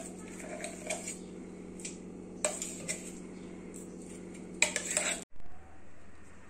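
Ground dal is scraped and transferred into a cooking pot, with light metallic clinks and scrapes of a utensil against the vessel, a few sharper knocks near the end, quiet and close in an otherwise still kitchen.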